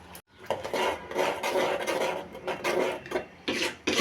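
A spoon scraping and stirring thick, spiced mango pulp in a pan on the stove, close rasping strokes in an uneven rhythm with brief pauses.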